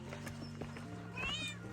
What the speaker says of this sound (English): Very tiny cat.